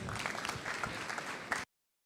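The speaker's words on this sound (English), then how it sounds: "A warm round of applause for the winners." A crowd applauding loudly in a room, steady clapping that cuts off abruptly.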